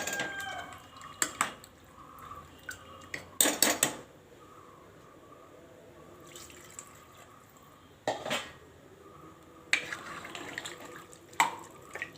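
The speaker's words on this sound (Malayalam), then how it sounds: "കുറച്ച് വെള്ളം കൂടെ നമുക്ക് ഇതിനകത്തോട്ട് ഒഴിച്ചു" Water is poured into a pot in several short splashing bursts, separated by quiet pauses, with faint background noise between pours.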